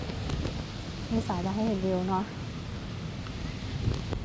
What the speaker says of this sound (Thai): แต่ลมแรงมากค่ะ มันอยู่ในซอกเขานะคะ